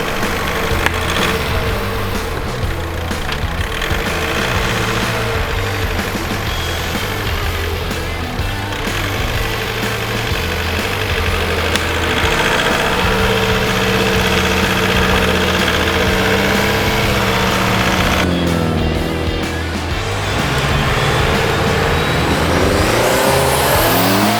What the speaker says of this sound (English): and then we drove over the top of it.